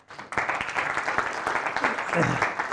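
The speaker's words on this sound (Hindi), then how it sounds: "ताली बजाने का मन कर रहा है तो बजा सकते हैं" An audience at a lecture on becoming rich bursts into applause: dense, sustained crowd clapping that starts abruptly and stays close and fairly loud to the end.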